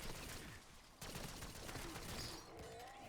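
Rapid bursts of gunfire crackle continuously in Black Ops 6 Zombies, with a sharp blast near the start, fairly faint overall, with mechanical clatter and noise mixed in.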